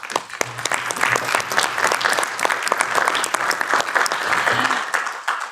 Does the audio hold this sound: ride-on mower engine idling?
no